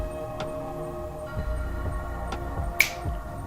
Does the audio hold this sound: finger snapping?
yes